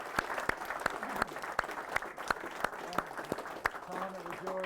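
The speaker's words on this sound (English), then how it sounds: "So let's give a round of applause for Clipper Creek." Sparse, fairly quiet applause at an electric vehicle association's general meeting honoring Clipper Creek, with distinct individual claps standing out over a thin crowd patter and a voice talking near the end.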